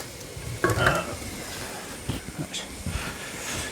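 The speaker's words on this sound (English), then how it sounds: "The meat's just about browned." Pieces of meat browning in a hot pan for Gambian domoda, a peanut stew, giving a steady close sizzle with brief stirring scrapes and clinks. Someone says a single word partway through.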